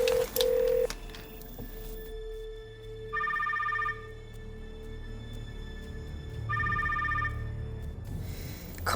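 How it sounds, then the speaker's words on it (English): A telephone ringing with an incoming call: two separate bursts of warbling electronic ring, close and clear over background noise, no talk. "Oh, it's getting a phone call."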